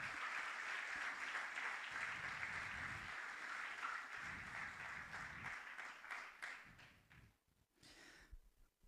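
A church congregation gives a loud round of applause to the Lord, sustained clapping that thins out and fades toward the end.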